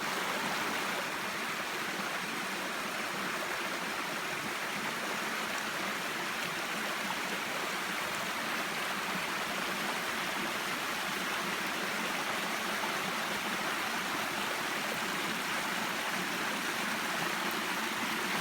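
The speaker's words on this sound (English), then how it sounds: "I'm here sitting on the bridge, just looking over the waterfall" A waterfall pours steadily below a bridge, producing a dense, even rush of falling water that stays constant and fairly loud from start to finish.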